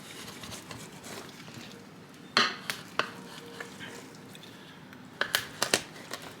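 A small, sharp knife cuts through spare ribs on a board, with scattered clicks and knocks as the blade meets bone and wood, several crisp taps clustered together over quiet room noise.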